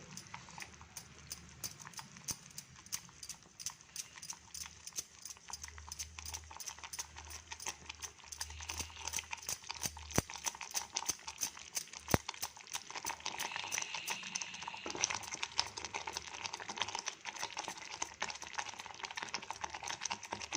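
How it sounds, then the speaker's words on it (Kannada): Ragi mudde, finger millet flour cooked in boiling water, is stirred with a spatula or mudde stick while it thickens. Rapid, steady clacking and knocking continues without a break and grows slightly busier toward the end. "ಒಂದು ಸ್ಪ್ಯಾಚುಲ ನಾವು ಮುದ್ದೆ ಕೋಲೋ ಯಾವುದೋ ಅದರಿಂದ ತಿರುಗ್ತಾ ಬರೋದು ಹೀಗೆ ತಿರುತ್ತಾ ಬರೋದು"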